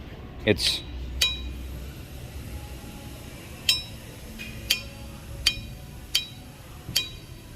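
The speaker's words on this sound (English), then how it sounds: "it's not on the hub, but even when it was on the hub, it made a completely different sound" A Brembo brake rotor for a Ford F150, off the hub, giving a series of sharp metallic clinks and rings spaced a second or so apart, close by, with quiet talk in the background.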